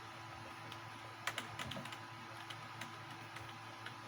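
Clicks of a computer mouse and keyboard keys tapped at an uneven pace during a horse-riding video game, with a steady background hum and no talking.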